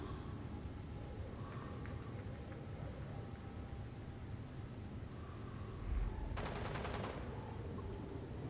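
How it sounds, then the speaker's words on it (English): Gunfire in the video game Gotham Knights, a burst of rapid shots crackling over a steady noisy background, heard at a moderate distance for about a second. "Someone out there shooting"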